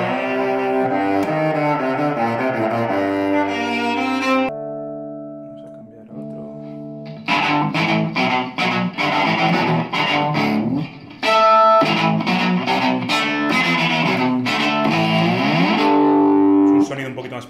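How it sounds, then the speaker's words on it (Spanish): Bowed electric cello through a small guitar amp with presets, a gritty, distorted tone, sustained notes broken by a pause, then rapid repeated strokes. "es un amplificador de guitarra que ya viene con presets"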